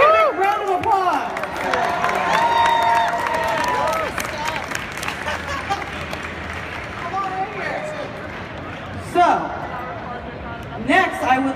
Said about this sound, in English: We'll give Cricket a round of applause.